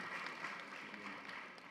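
Audience clapping for a vice-chancellor at a county government session, a steady, fairly faint wash of many hands sustained throughout without a clear break.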